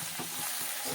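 New potatoes frying in a pan give off a steady close-up sizzle with soft stirring scrapes, alone and without talk.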